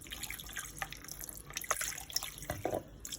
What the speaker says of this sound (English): I take from there and I pour it over the meat.